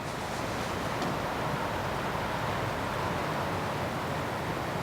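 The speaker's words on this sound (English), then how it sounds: "I love hearing the wind go through the trees." Wind rushes through spruce and pine trees in a steady, loud, unbroken roar, with no voices over it.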